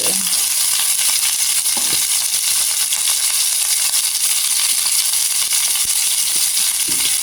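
Daludal (takway) stalks frying in a pan with garlic and onion for adobo, a loud, dense, continuous hissing sizzle close up with faint stirring beneath, no talking.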